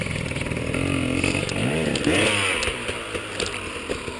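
An enduro motorcycle's engine revs hard on the throttle out on a trail ride, rising and falling in a few sharp bursts with rattling clatter, close and loud.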